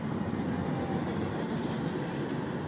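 A train rolls past along Chicago Drive between Jenison and Hudsonville, a steady broadband rumble holding the whole stretch at moderate distance, with no voices over it.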